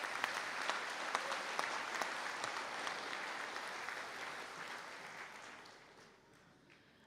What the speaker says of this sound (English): A round of applause for the graduates, please.